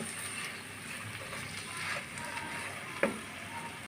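Washed moong dal stir-fried in a pan, giving a steady broadband sizzle with faint scraping and one sharp clink of a utensil near the end, close and continuous.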